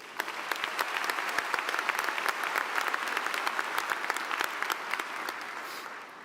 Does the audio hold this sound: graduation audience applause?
yes